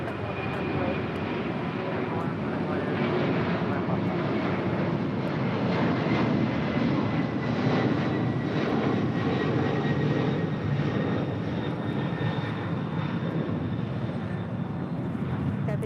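An airliner comes in to land on runway 25 left at LAX, its engines giving a steady, fairly loud drone with rising whine tones throughout, overlaid by talking voices.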